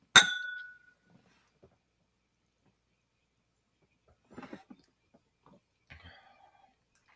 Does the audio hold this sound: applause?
no